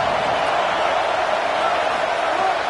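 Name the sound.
college football stadium crowd roaring before third down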